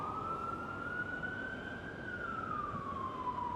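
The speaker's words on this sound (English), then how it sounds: "There was a siren coming by." A siren wails past on East 42nd Street, its pitch rising and then dropping as it goes by, over a low background hum.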